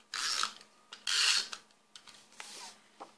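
A snail adhesive tape dispenser rolls across card stock in quick rasping strokes, two stronger pulls followed by fainter scuffs, close and quiet.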